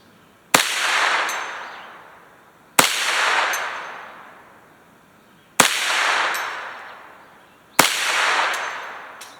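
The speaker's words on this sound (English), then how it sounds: "I'm shooting the left plate at 150." A Ruger 10/22 rifle fires four spaced shots at steel plates 150 yards away. Each sharp report is followed by a long, fading outdoor echo, with a faint high ring carrying through. The shots are loud and there is no talking.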